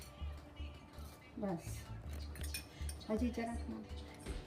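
A spoon stirring milk powder burfi mixture in a bowl, giving soft, repeated scraping and light clinking strokes at a low level under a speaking voice.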